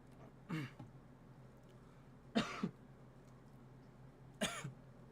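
A person coughs three times after drinking cold coffee, each a short, close burst spaced about two seconds apart against a quiet background.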